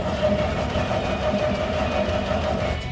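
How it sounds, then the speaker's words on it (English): An 80-year-old Chevy truck engine cranks slowly in neutral with a weak battery, giving a steady, close, droning turnover that holds for the whole stretch without catching. "she's turning over a little slow this morning"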